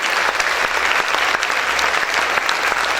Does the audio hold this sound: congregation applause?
yes